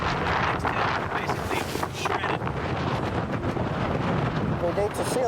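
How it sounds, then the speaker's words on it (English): Wind from a ferocious storm on a small island batters the microphone in a constant, loud buffeting rush, with gusts and flapping, and voices talking faintly underneath. "Now, we just need to hunker down and ride out this ferocious storm."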